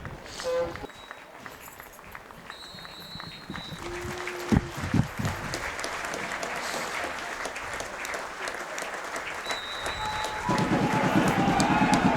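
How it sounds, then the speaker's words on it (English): Football stadium crowd applauding for a minute before kick-off at an East Fife versus Stenhousemuir match, broad distant clapping that swells louder toward the end, with a brief knock and faint whistle-like tones. "There will be a minute's applause before kick-off"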